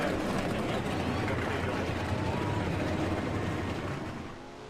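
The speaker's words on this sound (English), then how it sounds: "Engines fired up here." Stock race cars fire up at the start of a Daytona 500 run in a racing video game, a dense, steady engine roar and rumble of the whole field held throughout before easing slightly at the end.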